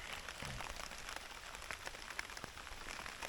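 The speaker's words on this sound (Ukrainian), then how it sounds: "І знову йде дощ." Rain patters steadily on a surface beside the Dnipro River during feeder fishing, with scattered sharper drops standing out from a soft, constant hiss.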